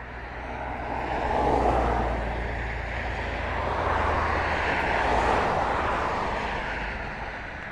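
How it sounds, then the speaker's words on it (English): A Boeing 767 cargo jet on approach to East Midlands Airport roars loudly and steadily, a broad engine rumble that swells and eases as it passes, with no talk. "We see the next aircraft coming in. I think it is 767 as far as I remember. Cargo jet 767,"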